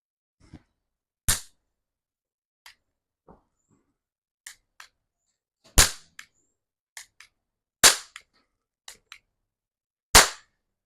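A 1990s-style toy cap gun fires caps in sharp, loud, close cracks, with four strong snaps spaced a couple of seconds apart and several fainter pops and clicks scattered between them against near silence.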